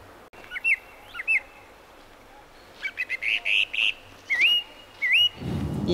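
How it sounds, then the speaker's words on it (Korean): Bright, clear birdsong: short whistled chirps and rising trills in scattered bursts over a quiet background, ending with a rustling noise. "어디선가 들어온 청량한 새소리가 잠시 걸음을 멈추게 했습니다."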